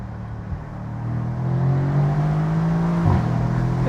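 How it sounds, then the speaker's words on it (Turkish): A Mercedes-AMG C63 S Cabriolet exhaust rumbles and rises in a steady rev that climbs over a few seconds. It then drops off sharply with a brief crackle near the end, loud and close. "Şimdi şu egzoz sesini bir dinler misiniz?"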